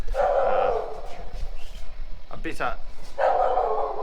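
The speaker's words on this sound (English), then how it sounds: "We've got our dogs, our neighbours' dogs. This time of night they come out." Several dogs, including neighbouring Rottweilers, bark at night just outside a house in India, with bursts at the start and end and a brief gap of other noise in between, fairly close and loud.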